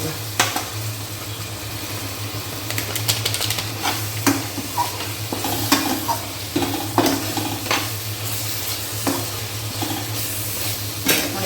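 Masala frying with tomato in a pan for Amritsari kulcha, a steady sizzle under repeated scraping and stirring strokes of a spoon, close and moderately loud, with no voices.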